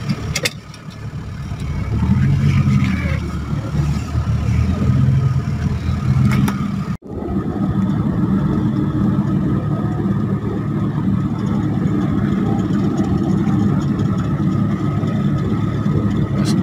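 A 2003 Hyundai Excel on a test drive, its engine humming steadily from inside the cabin with road noise, a sharp click partway through, then a continuous even drive.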